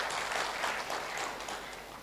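Applause fills a church for several seconds, a moderate steady patter of many hands without distinct individual claps.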